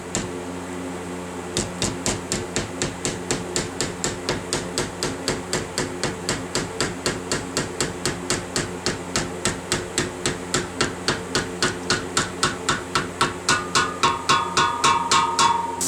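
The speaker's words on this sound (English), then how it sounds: "you just have to tap that Cyclone." A cyclone dust separator on a blasting cabinet is tapped over and over, a long regular run of sharp metallic knocks at a steady rhythm over a humming machine, with no talking.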